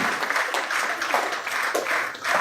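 Audience applause welcoming a poet onto the stage at an Azerbaijani march presentation event, a dense continuous wash of clapping from a hall crowd, loud and sustained with slight swells.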